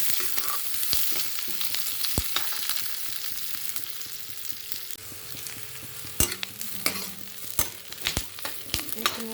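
Onions fry with ginger garlic paste and chilli in a pan, a soft continuous sizzle broken by sharp clacks of a spoon stirring against the metal, the knocks growing more frequent toward the end; no talking.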